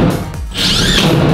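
Power drill driving screws during house renovation work, a steady whirring buzz running close and continuous through the short burst, alone with no talk.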